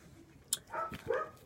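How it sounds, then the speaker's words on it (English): A pet dog barks indoors, a couple of short close yaps and whimpers standing alone against quiet. "And I apologize about my dog."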